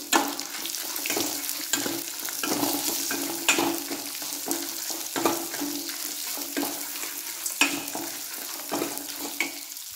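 Cinnamon, cloves, white lentils, poppy seeds and a medium red onion fry lightly in a pan, a soft continuous sizzle marked by frequent spoon scrapes and stirring knocks.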